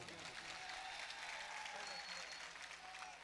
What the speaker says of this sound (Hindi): तमाम हाजरीन इमरान प्रतापगढ़ी के इस्तकबाल में जोरदार तालियां बजाएं